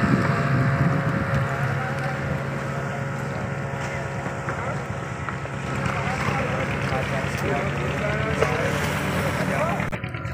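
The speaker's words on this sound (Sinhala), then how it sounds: "බලන්න ලහිලයියේ ඇදී යන ධීවර බෝට්ටු." Fishing boats racing across the water, heard as a continuous loud engine drone with wind buffeting the microphone throughout.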